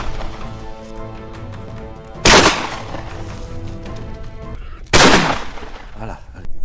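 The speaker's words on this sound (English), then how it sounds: "another gunshot echoed from a nearby field" Two loud, sharp gunshots crack during a wild boar hunt near a field, roughly three seconds apart, each standing out sharply above a steady tonal background.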